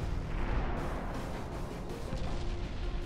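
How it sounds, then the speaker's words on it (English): Heavy battleship guns firing in Ultimate Admiral: Dreadnoughts, a steady low rumbling barrage of distant booms with no clear separation between shots. "she's firing at the one ship that hasn't taken any damage so far"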